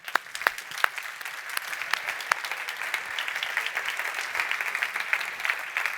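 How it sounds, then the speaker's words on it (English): An audience applauds Future of Health grant winners at an Innosuisse alumni event, starting with a few distinct claps that fill into steady, moderate clapping from many hands in an indoor room. "I think they deserve a big round of applause"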